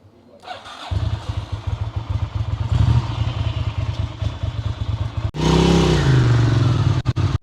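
A Ducati Monster motorcycle starts up and pulls away, its engine thudding close and loud with clatter, then revving harder toward the end as the ride gets under way; no talking.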